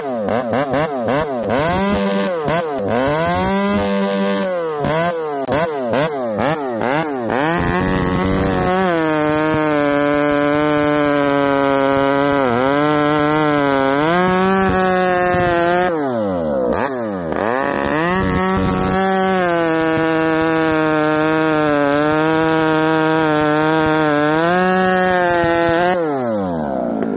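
Ported Husqvarna 394XP chainsaw cutting wood, loud and close, its engine revving up and then holding a steady, labouring drone through long cuts with brief dips between passes.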